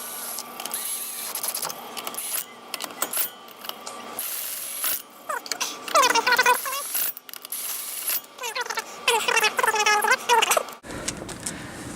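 A torque wrench works on lug nuts of a Ford Ranger wheel, with busy close metallic ratcheting and clicking in uneven bursts, plus rattling and clinks of parts.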